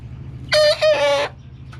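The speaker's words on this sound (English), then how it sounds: "we have a total of 17 baby chicks in here." A baby chick gives one short, strained, two-part call close by over a low background hum.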